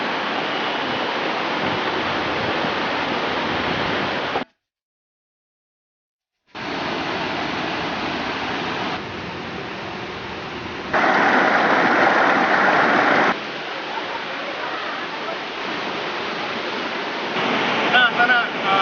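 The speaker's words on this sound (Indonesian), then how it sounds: "sana kita lihat kan ini sungai besar" A large river flows in a steady, loud broadband rush, with a short silent gap partway through and shifts in intensity, no talk over it.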